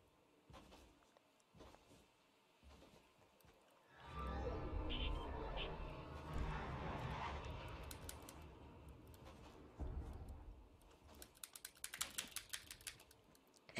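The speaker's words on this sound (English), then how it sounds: "That's just like me spamming my keyboard." A computer keyboard is typed on rapidly during a Fortnite match, with bursts of quick clicks near the end following a louder stretch of game noise, and a player talks at times.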